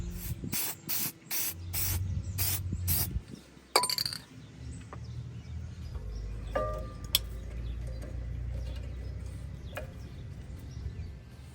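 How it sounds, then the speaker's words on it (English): A rapid series of short aerosol spray bursts onto the back of a brake pad, then a longer hiss, followed by clinks and quieter handling noises of brake caliper work nearby. "we're going to spray that on the back side of this"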